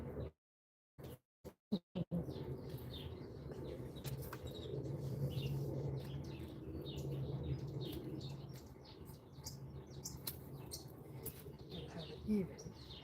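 Birds chirp faintly now and then across a garden over a steady outdoor background, with a few sharp knocks at the start and people talking nearby.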